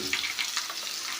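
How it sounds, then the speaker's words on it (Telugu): Onion-chili paste hits hot oil in a tempering with urad dal for an ivy gourd dish, giving a continuous close sizzle with light stirring. "ఈ ఉల్లి కారాన్ని తాలింపు వేసుకుందాం."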